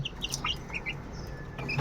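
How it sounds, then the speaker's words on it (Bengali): Young desi chicks about five weeks old peep and cheep in short, high bursts over a low background hum, with several birds calling irregularly and fairly close. "আমাদের 1 মাস 7 দিন বয়সের মুরগির বাচ্চাগুলো"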